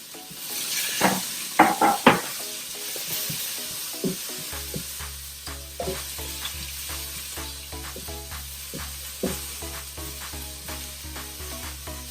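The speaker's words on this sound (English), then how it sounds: "I'm gonna saute the onion for like roughly a minute." Onions dropped into a hot pan with roasted cumin sizzle steadily, with a few louder clatters and stirring scrapes early on, then settle into a continuous close frying hiss with soft regular ticks, and no voices.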